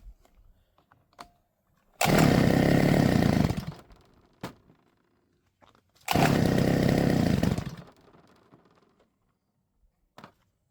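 A grass trimmer's small two-stroke engine, run without the choke, fires in two loud, roughly two-second bursts separated by quiet gaps and a few faint clicks.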